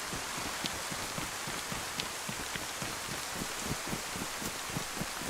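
Steady broadband rain hiss in the Livonia survival game, a continuous even wash with scattered low patters of droplets throughout, no voices present.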